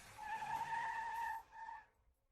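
A car brakes to a stop with a sharp tyre skid, a bright squeal lasting over a second, then a short second screech before the sound dies away into quiet.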